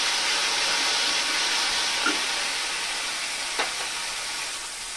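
Green chili paste fries in oil over a low flame, giving a steady close sizzle and hiss throughout, with a couple of faint clinks of a utensil.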